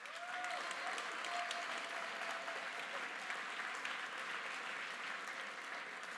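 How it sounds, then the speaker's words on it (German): A crowd at an SPD party tour event in Bremen breaks into steady, full applause that holds evenly throughout, heard slightly distant in a large hall. "Ebenfalls bitte einen tosenden Applaus"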